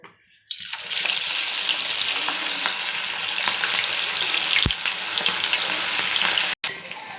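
Chicken pieces frying in hot oil, a loud, steady crackling sizzle that holds for several seconds after a brief quiet start, with one short dropout near the end.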